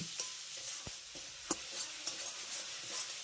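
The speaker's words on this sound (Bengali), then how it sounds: "টমেটোটাকেও আমি এই এক দেড় মিনিটের মতো একটু কষিয়ে নেব" Tomatoes being sautéed with salt in a pan, giving a faint, steady sizzle broken by scattered soft clicks of stirring and scraping, without any voice.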